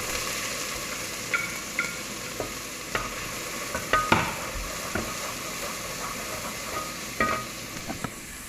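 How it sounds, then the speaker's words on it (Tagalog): Onions are stirred and sautéed in a pan for kalderetang pakpak, with a steady sizzle of frying under repeated scraping and clinking strokes from the stirring utensil, close by and without talk. "Haluin ko lang ng haluin hanggang sa maluto"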